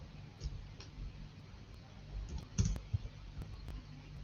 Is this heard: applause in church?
no